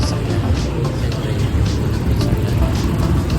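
Heavy traffic on a busy city street by the church plaza in Tagbilaran, Bohol, a steady dense roar of passing cars and vehicles with no gaps.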